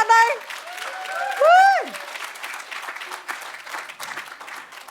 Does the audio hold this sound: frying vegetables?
no